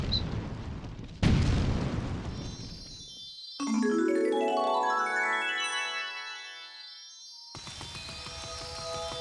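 Bombs exploding in Super Mario Galaxy: a sudden loud blast followed by a rumbling burst, then ringing chiming effects that fade before another explosive burst near the end.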